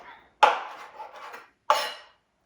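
Roast turkey being chopped with a knife on a cutting board for a keto casserole: two sharp, close cutting strokes, each followed by a short scraping rustle, with a brief quiet gap between them.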